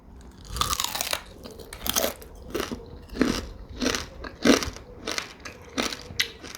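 Crispy deep-fried crab being bitten and crunched, with about ten loud, close crunchy bites in an irregular rhythm and no talking.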